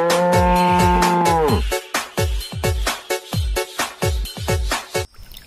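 A cow moos loudly and close by, one long low call followed by a run of short, choppy bellowing grunts in quick succession.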